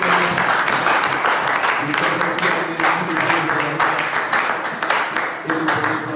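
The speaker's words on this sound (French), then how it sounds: "On acclame fortement le Seigneur" A church congregation applauding and cheering in praise, loud dense clapping mixed with shouts and voices, continuous and filling the room throughout.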